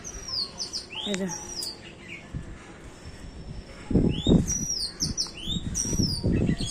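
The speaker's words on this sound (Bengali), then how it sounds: "পাখিটা আবার ওই পাশে গিয়ে বসে ডাকছে" A bird calls repeatedly with bright chirping notes through most of the clip on a rooftop, alongside low thumps and rustling as laundry is hung nearby.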